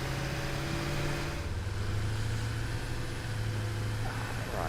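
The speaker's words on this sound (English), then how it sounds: "ignore the very noisy tractor turning up" A noisy tractor rumbles in from the video game Satisfactory, a steady loud engine drone with a low tonal hum that holds throughout, rising slightly as it arrives.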